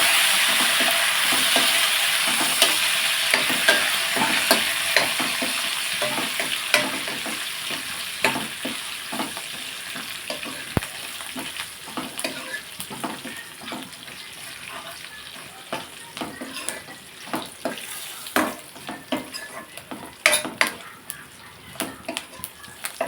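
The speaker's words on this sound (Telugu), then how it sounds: "పోపు బాగా వేపుకోవాలండి." Tempering spices sizzling in a pan for gongura dal, a continuous frying hiss broken by repeated scraping strokes of a spoon stirring, the stirring growing more frequent toward the end.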